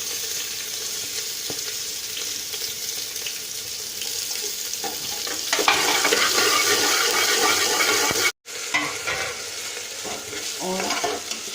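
Cumin seeds and chopped onion sizzle steadily in hot oil on a home gas stove, a continuous loud frying hiss with stirring scrapes, briefly cutting out near the end before resuming.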